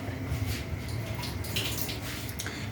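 Water is poured into a cooking pot of onions for pilau, a continuous close splashing and trickling with small drips, fairly quiet and steady throughout.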